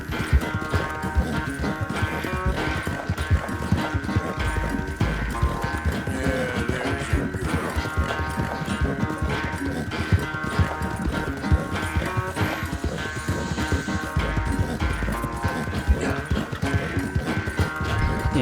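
Galloping horse hooves in Red Dead Redemption 2 pound in a steady rapid clip-clop rhythm during a race, heard close and continuous for the whole stretch over a dense game sound bed.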